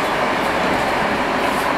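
Steady broadband rumble and rail noise from a Paris T11 Express tram running between Le Bourget and Épinay-sur-Seine, heard from inside as a continuous close hum with no clear clicks and no talk.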